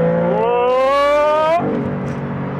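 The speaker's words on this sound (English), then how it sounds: "Okay, let's downshift one more time." A Maserati MC20 sports car engine revs up with a rising, buzzy note, then drops sharply as it downshifts and settles into a lower growl.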